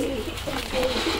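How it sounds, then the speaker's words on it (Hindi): Pigeons kept in an outdoor coop during the rainy season, cooing in soft repeated low calls close by, with someone talking over them. "ये हैं सारे के सारे कबूतर"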